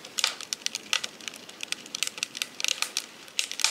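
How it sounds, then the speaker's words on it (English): Wood fire burning in a Clasica Lacunza wood cook stove, close up, giving rapid irregular crackles and snapping pops that grow busier toward the end, with no voices. "you can tell by the sound too, just by how much crackling you can hear"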